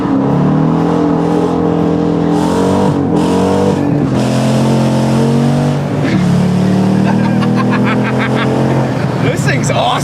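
A refurbished car with independent rear suspension drives along, its engine humming steadily and shifting pitch as it accelerates, with a person talking over the drone close by.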